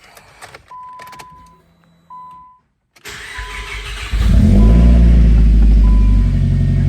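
A Nissan Sentra B15 Spec V with an aftermarket radio cranks and fires up on the first try, settling into a loud, steady idle rumble close by after a few chime tones and a short pause.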